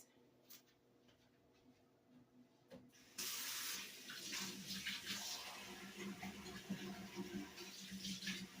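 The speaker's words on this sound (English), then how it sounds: "let me just wash my hands." Running tap water pours steadily into a sink as hands are washed, starting abruptly a few seconds in after a quiet stretch with faint clicks, then continuing as a broad close splashing rush to the end.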